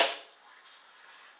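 An ASG STI Off Duty airsoft replica pistol fires a single sharp, loud snap at the start, with the barrel kicking out, fading quickly into a quiet tail.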